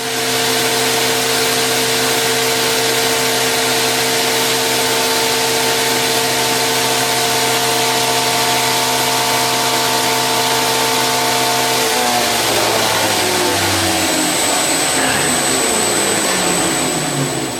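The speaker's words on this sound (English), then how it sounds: "So we'll swap over the wheel on the grinder and yeah, do a bit more grinding." A bench grinder with a 40-grit wheel spins at full speed while shaping the handle scales of a bushcraft knife, a loud steady motor whine with humming tones that shift and roughen near the end as contact grinding begins.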